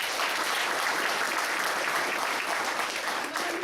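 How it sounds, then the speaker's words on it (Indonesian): An audience at a motivational seminar applauding themselves, a dense, even wash of clapping from many people, sustained at a fairly loud level without pause. "kasih tepuk tangan untuk Anda sendiri"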